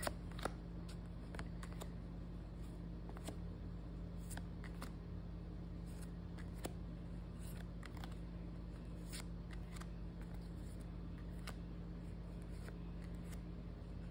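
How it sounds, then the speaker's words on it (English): Thick-cardstock tarot cards being shuffled in repeated riffles and bursts of crisp rustling over a steady low hum, with occasional sharper snaps of card edges. "I like this thickness of cardstock to shuffle. It shuffles well"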